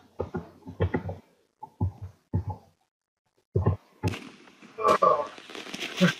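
Fireworks bursting in the video game Minecraft: sharp crackling pops and bangs in the second half, following bursts of excited talk, fairly close and loud.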